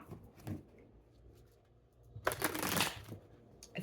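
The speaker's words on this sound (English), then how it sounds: "Let's see if I can shuffle these a little better here" A deck of tarot cards is shuffled by hand in a few quick riffles: a short burst at the start, a soft one shortly after, then a longer, louder riffling run close to the mic.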